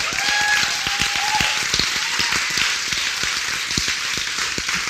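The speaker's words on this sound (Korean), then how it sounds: "주님께 영광의 박수 올려드리겠습니다." A church congregation claps loudly in praise, a dense, continuous applause from many hands filling the sanctuary without pause.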